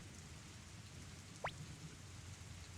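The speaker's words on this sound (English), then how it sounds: "Nasty rain gives me the shivers." Steady rain falls in the Suikoden video game as a soft, constant hiss. It is quiet and even, with a brief rising tone near the middle and no voices.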